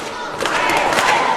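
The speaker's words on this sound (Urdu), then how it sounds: "ہماری یہ بہنیں یہ اس وقت نعرے لگا رہی ہیں اس حکومت کے حق میں" Women chanting slogans inside the Punjab Assembly, a loud crowd roar of raised voices that swells and stays steady with some thuds mixed in.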